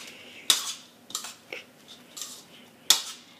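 Spoons and powdered spices, coriander, cumin powder and salt, being mixed together in a bowl for cauliflower paratha filling: a few sharp clinks and taps of utensil against dish, spaced irregularly and fairly close, with no talking.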